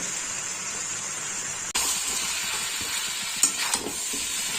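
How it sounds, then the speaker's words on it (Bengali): Chicken pieces frying in a pan as their released water cooks off, a steady hiss with a sharp clatter partway through and a few stirring scrapes near the end, close and alone. "জলটা শুকিয়ে দেখুন একদম ভাজার মতো হয়ে গেছে, ভালোই কষানো হয়ে গেছে"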